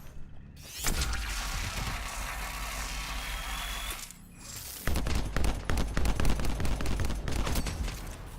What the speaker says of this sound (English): It's automatic too. This is an automatic weapon.